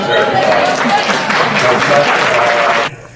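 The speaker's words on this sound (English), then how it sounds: "give them an applause because they deserve it" Graduates at an awards night break into loud, dense applause lasting a few seconds, which stops abruptly, with some voices mixed in.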